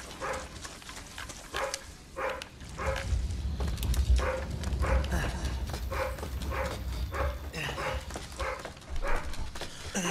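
Undertaker, a dog in the video game Resident Evil 7, barks in a steady string of sharp, evenly spaced barks over a low rumbling game soundscape, with no talking.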